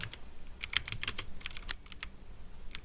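Rapid keystrokes on a computer keyboard while a port number is entered in Kali Linux, a quick run of close, crisp clicks in uneven bursts with no talk over them.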